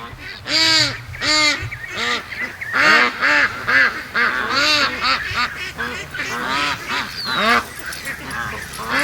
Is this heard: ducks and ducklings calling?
yes